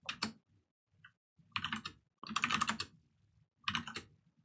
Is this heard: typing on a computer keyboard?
yes